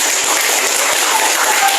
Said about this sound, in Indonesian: Kalau bisa menyenangkan silakan berikan tepuk tangan.